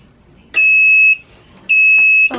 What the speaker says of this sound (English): I have the timer set, and it will beep when it's ready.